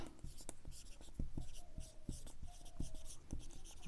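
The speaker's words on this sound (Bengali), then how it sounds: "তাহলে আমাকে লিখতে হবে নূর জাহানের" Pen or marker writing out a class 7 ratio math solution, a steady run of short scratchy strokes and taps close by, with no talk over it.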